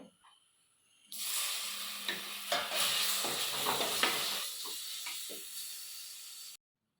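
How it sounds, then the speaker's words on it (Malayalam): Tomato sautés with chili and turmeric powder in a pan in a village kitchen, a close steady sizzle rising abruptly after a quiet second, with stirring scrapes and soft spatters before it cuts off. "പിന്നെ മുളക് പൊടിയും മഞ്ഞൾ പൊടിയൊക്കെ ചേർത്തൊന്ന് മൂപ്പിച്ചതിന് ശേഷം തക്കാളി ഇട്ടിട്ട് വഴറ്റിയെടുക്കുവാണേ"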